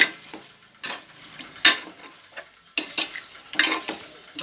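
Mutton pieces being stirred with ginger paste and salt in a pot, giving close, irregular scraping and clinking strokes of a utensil against metal, loudest in bursts with soft sizzling between.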